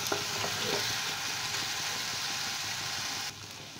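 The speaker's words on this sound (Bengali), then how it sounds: "দিয়ে আমি মশলাগুলোকে আবার একটু ভালো করে কষিয়ে নিচ্ছি" Spices and red chilli powder sizzle in a pan for a tomato fish curry, a steady loud frying hiss running throughout with a faint low hum beneath, then easing slightly near the end.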